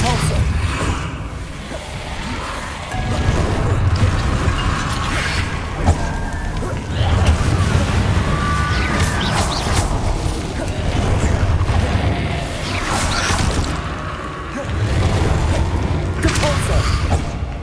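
Depulso spell casts in Hogwarts Legacy, a busy game soundscape of repeated whooshes, thuds and crashes over a constant rumble, with bursts recurring every few seconds.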